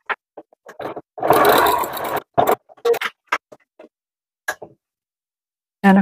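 A sewing machine stitches a denim basket in short bursts, one long run of rapid stitching near the start and several brief stutters and ticks after, separated by quiet pauses.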